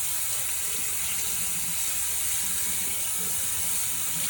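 Cold water running steadily from a kitchen tap over a raw whole chicken, a loud, even hiss and splash with no talking.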